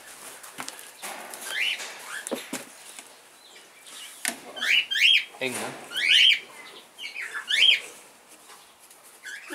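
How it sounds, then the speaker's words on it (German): Parrots and cockatiels in an aviary in Thailand give repeated sharp chirps and squawks in quick clusters, close by, with brief German speech and a few rustles and wing flaps between the calls. "So, hier andere Vogel."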